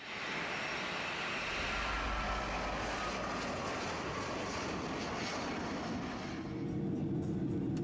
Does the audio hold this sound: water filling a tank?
no